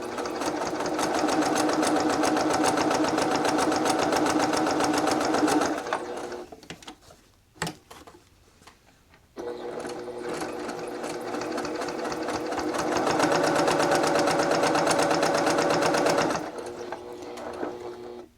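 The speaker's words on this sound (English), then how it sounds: "I want to get a nice top stitch all around this edge" A sewing machine topstitches around the edge of a fabric bookmark, running in two long, steady bursts of fast close needle rattle with a short quiet pause and a click between them.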